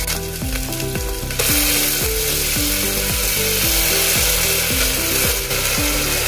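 Masoor dal, tomatoes and ginger frying in a pan, heard as a loud, constant, close sizzle under rhythmic background music, with no talk.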